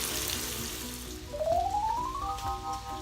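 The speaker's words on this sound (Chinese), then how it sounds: "这个蔬菜呢要在炉上面再用肉汁去炒一炒" Vegetables frying in meat juices in a pan on a stovetop, a soft steady sizzle and crackle that continues throughout, with a rising whistle-like tone in the middle.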